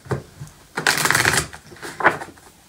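Tarot cards are shuffled up close, a quick riffling burst followed by softer flicks and taps, with no talking.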